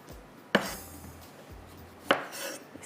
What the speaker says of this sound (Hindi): तो टमाटर मैं कटिंग कर लेती हूँ।